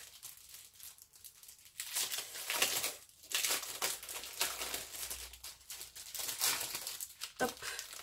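A plastic package holding stamps and stencils being torn and pulled open, with sustained loud crinkling and rustling in bursts over several seconds, close by and without speech.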